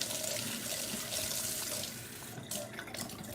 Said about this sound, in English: I got to fill up the water bottle